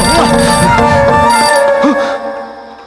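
A phone rings with an incoming call in a Telugu horror thriller, a loud repeating electronic ringtone melody with sustained tones that cuts off and fades near the end, with no talking.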